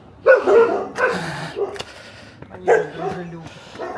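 Dogs bark in short, sharp bursts at a middling distance, several yaps scattered across the moment, while a person talks over and between them.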